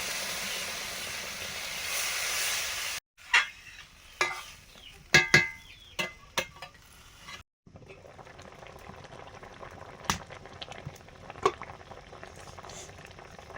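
Water boiling in a pot for rohu fish curry with ridge gourd, first a steady bubbling hiss, then after a short break a series of separate clatters and bubbling pops, ending in a softer ongoing simmer.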